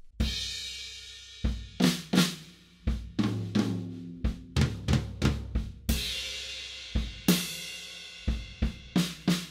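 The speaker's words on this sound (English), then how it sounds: "And the last two bars of this eight bar fill section sound like this." A drum fill played on a kit: a series of sharp tom and snare hits with crashing cymbals, building in rhythmic bursts over about ten seconds, close and clear with no talking.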